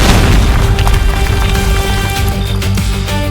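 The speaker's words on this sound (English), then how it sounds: "Dann erklingt wie im Wald eine zweite, noch heftigere Explosion." A gunpowder room explodes in an audio drama, a dense, continuous roaring blast that fills the whole stretch at high loudness with rumbling debris and layered effects.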